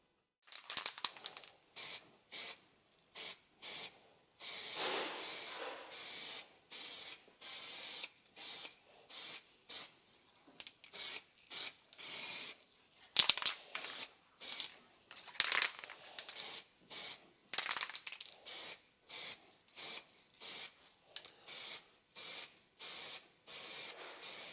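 Short hissing bursts of spray paint, heat-resistant coating applied to rebuilt, sandblasted Toyota GT4 Celica brake calipers, repeating in an irregular rhythm of one- to two-second sprays separated by near silence, close and fairly loud.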